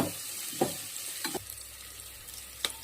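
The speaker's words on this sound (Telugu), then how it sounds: "ఉల్లిపాయ బాగా రెడ్గా బ్రౌన్ కలర్ వచ్చేదాకా వేయించుకోవాలి." Onions frying in a pan with rock salt and whole spices such as cinnamon and cloves until browned, a soft steady sizzle with a few brief clicks and stirring scrapes, close and without talk.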